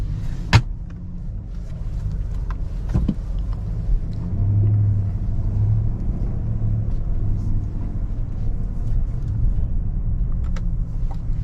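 A 2021 GMC Yukon full-size SUV cruises along, heard from inside the cabin as a steady low engine and road rumble with a couple of sharp clicks near the start.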